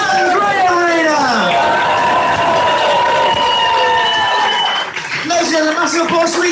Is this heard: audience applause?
yes